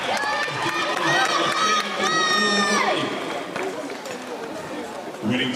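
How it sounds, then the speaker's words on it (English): Indoor race crowd cheering and applauding athletes as they circle the track: a dense, loud wash of shouts, whoops and clapping rolls on steadily, with high excited voices rising above the din and a commentator talking over it. "Round of applause as we see these athletes going around."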